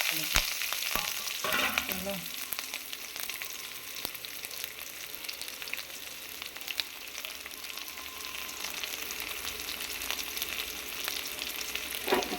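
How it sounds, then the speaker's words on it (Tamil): Onion, green chili, mustard seeds and urad dal frying in hot oil, a loud continuous crackling sizzle with occasional stirring clatter early on, close up and without talk. "எண்ணெய் காஞ்சிட்டோடனே கடுகு உளுத்தம் பருப்பு போட்டுக்கலாம். நல்லா பொரிஞ்சிருச்சு. இப்போது வெங்காயம் பச்சை மிளகாய் பண்ணிக்கலாம்."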